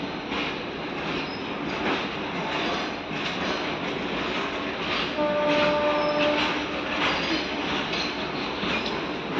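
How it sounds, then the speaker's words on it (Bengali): A train at Tamluk railway station gives off a continuous loud rumble and hiss of rolling wagons, with a brief high squeal of wheels partway through. "আমরা এখন তমলুক স্টেশনে এসে গেছি।"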